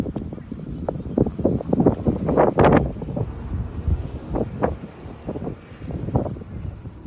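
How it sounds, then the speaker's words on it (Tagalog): Strong gusts on a mountain in Canada buffet the microphone in rumbling, blustery waves, loud and close, with faint voices mixed in. "Super hangin nga lang"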